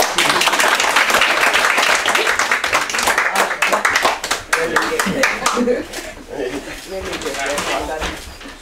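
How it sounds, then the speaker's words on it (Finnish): A small outdoor crowd claps for the winning Finnish hound at a hunting-dog trial, dense close applause that thins and fades over several seconds, with voices mixed in. "Siitä pitää enempi taputtua."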